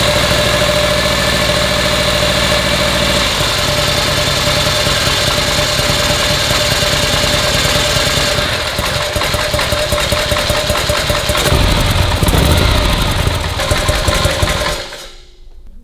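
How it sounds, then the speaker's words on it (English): A mid-90s American-import Terminator promotional movie motorcycle with open pipes idles loudly and steadily up close, its rough, pulsing exhaust note continuous before it cuts off abruptly near the end. "Yeah, with the open pipes, it's seriously noisy."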